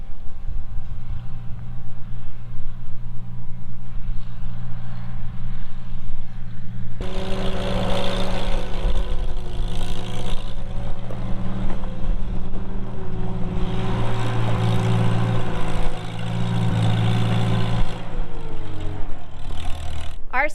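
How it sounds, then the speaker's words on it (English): A farm tractor drives past on a farm with steers and spring peepers, its engine rumbling low and steady and growing louder partway through as it comes closer, with a harmonic drone that holds to the end. "He took the tractor to get some grain."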